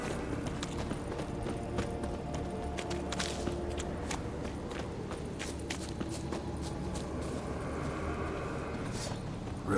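Roach, Geralt's horse in The Witcher 3 video game, galloping at a steady pace, with rhythmic hoofbeats running continuously over a dense background of battle ambience and game sounds.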